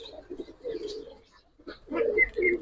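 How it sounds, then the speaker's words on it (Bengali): Giribaz pigeons in a loft coo softly at close range, two low murmuring bursts separated by a short pause. "দেখেন কবুতর গুলা দেখেন, দেখেন গলার বান দেখেন।"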